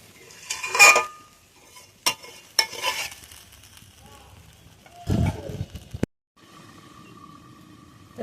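A lid goes onto a pot of chicken malai curry after water is added: several sharp metallic clanks and clatters of cookware, spaced out, the last knock followed by a muffled hush.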